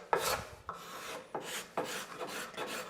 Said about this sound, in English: I'm cleaning off those file marks to make sanding a lot faster.